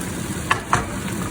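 Chicken stir fry sizzling in a pan, a steady soft frying hiss with two brief louder spits, fairly quiet and with no talk.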